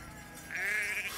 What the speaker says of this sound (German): Eine Schafherde.